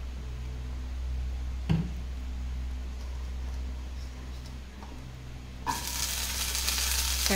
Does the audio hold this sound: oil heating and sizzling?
yes